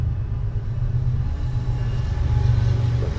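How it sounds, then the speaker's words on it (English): A passing train near Skydance Brewing Co. gives a loud, steady low rumble that swells slightly toward the end, with no voices over it. "let the train go by."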